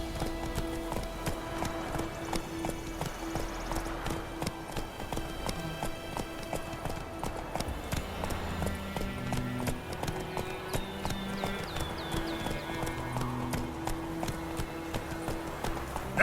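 Roach, a horse in The Witcher 3, gallops with rapid, rhythmic clip-clop hoofbeats throughout, set against game ambience and soft music, at moderate volume.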